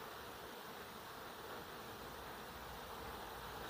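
Bees fly around a beehive in a churchyard, a faint, continuous buzzing hum spread evenly through the clip with no voices.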